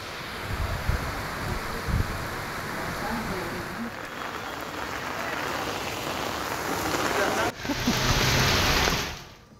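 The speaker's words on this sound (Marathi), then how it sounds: "मुंबईत मुसळधार पाऊस कोसळत होता" Heavy monsoon rain pours down in Mumbai, a dense, steady hiss that holds without a break and swells slightly toward the end before cutting off.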